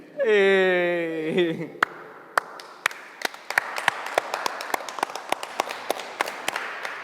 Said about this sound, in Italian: Ora è entrato il prete e l'applauso, prima nessuno.